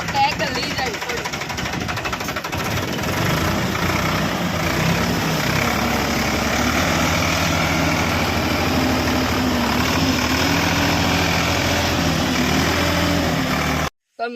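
A tractor stuck on a farm field runs with a steady, droning engine that stays loud and unchanged throughout, with voices talking over it, before cutting off abruptly at the end.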